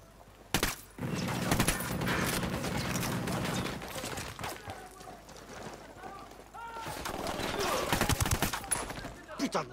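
Gunfire in free-fire mode rattles out in dense, sustained bursts and volleys at close range, with a brief pause midway and voices mixed in under the shooting.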